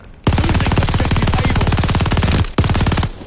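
Sustained automatic MG42 machine gun fire in Call of Duty: Vanguard, a loud, rapid continuous burst that breaks off briefly near the end before resuming.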